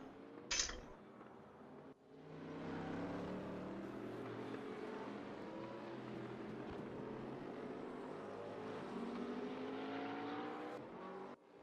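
A McLaren GT3 race car on a timed lap in a racing game, its engine holding a loud, steady high-revving drone with shifting harmonics for about ten seconds after a brief opening click.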